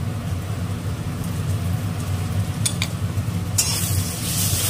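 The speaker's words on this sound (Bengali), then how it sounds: "একটু কষিয়ে নেবো ভালো করে যতক্ষণ না তেলটা বেরিয়ে আসছে" Ground spice paste with well-browned onions sizzles steadily in hot oil while being stirred, with a few sharp scraping clicks near the end and no talking.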